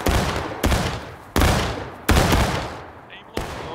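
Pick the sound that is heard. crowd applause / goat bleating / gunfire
gunfire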